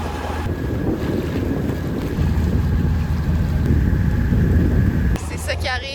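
A strong south wind on Chesapeake Bay batters the microphone aboard a boat, a loud steady roar of gusts and water that cuts off abruptly near the end, with a voice faintly underneath.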